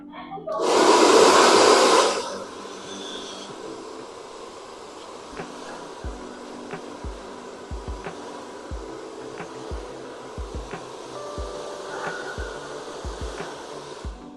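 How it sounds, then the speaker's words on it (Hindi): A hair dryer blows loudly for about two seconds at close range, then cuts off, leaving quieter room noise with faint ticking clicks. "एंड ड्रायर चलता रहेगा"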